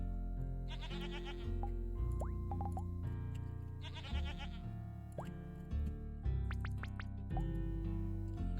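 Cartoonish goat bleats from the video game Hexagourds, several short wavering calls between playful game chimes and boings, close and clear with no talk.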